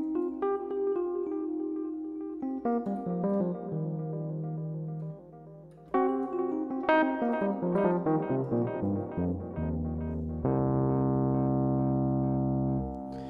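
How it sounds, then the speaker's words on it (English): A Fender Rhodes–style electric piano patch built from stock Ableton Live plugins plays a run of chords and melodic notes, bell-like and warm, ending on a sustained chord, with no talk. "how you can make a great Fender Rhodes sound in Ableton Live"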